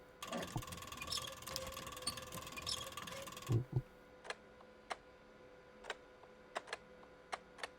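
Buttons pressed on a jammed mechanism in the video game Syberia: a dense whirring, grinding machine sound first, then a clunk and a series of sparse, sharp mechanical clicks, fairly quiet, with no speech.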